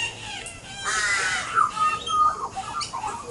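A young magpie gives a short series of raspy, wavering squawks and warbles at moderate distance outdoors, with faint ambient hiss behind the calls.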